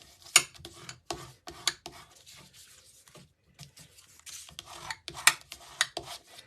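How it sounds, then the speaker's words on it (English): Layered paper pieces for a birthday card being burnished by hand from the back: a series of short, dry rubbing and scraping strokes in irregular bursts, close and fairly quiet. "I'm just going to turn them over and give them an extra burnish because that's so bumpy"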